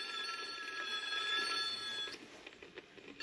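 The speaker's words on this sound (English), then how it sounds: "the rubble's rockaphone rang" Telephone ringing as a sound effect in a 1976 children's audiobook, a bright electronic bell trill heard for about two seconds, then quieter clicks and faint room noise.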